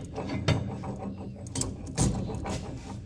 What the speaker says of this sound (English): shove that axle in, if you will